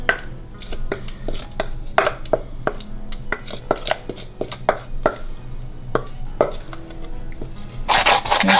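Guava pulp is worked through a finer sieve. The clip carries a string of irregular, sharp scraping and tapping knocks of utensil against mesh and bowl, close and fairly loud, with a harsher rush of scraping at the end.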